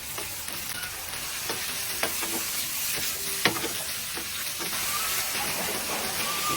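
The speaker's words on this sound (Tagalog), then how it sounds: "So igisa lang natin ng maigi" Chicken gizzards sauté in a hot pan with a steady, loud sizzle and hiss throughout, broken by occasional scraping stirs and light clinks of the utensil against the pan.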